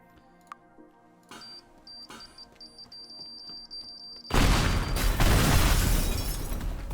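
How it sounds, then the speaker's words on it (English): A propane-fueled blast in the video game Teardown follows a few seconds of rapid ticking beeps, then erupts into a loud, sustained rumbling explosion with crashing debris that slowly fades. "that made a bit more of an explosion than I thought it would"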